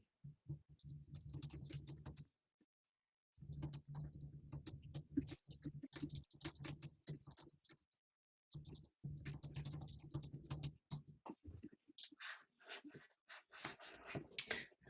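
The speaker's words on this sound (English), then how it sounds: "I should mute so you don't hear my clicking" Rapid, near keyboard typing and mouse clicking in bursts separated by short pauses, with faint background music underneath.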